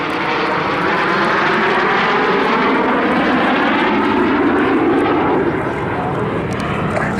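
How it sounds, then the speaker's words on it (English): A pair of BAC Strikemaster jets, combat derivatives of the Jet Provost Mark V, sweep past at the Southport Airshow, giving a loud, steady broadband jet roar that holds throughout with a faint rising whine. "the Strikemaster, a combat derivative of the Jet Provost Mark V"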